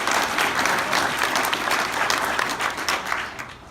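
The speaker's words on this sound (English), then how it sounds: "let's give them a round of applause." An audience at a town hall meeting claps in sustained applause, dense and even, tapering slightly toward the end.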